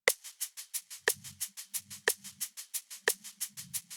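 A shaker pattern loops in a swinging 6/8 feel for a worship loop, crisp rhythmic shakes with a stronger accent at each bar, alongside soft low tones.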